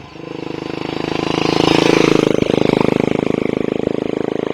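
Royal Enfield Classic 350 fitted with a SCUD barrel exhaust, idling close by with a loud, rapid machine-gun-like thump that swells into a rev and then settles back to a steady, pulsing idle, no talking.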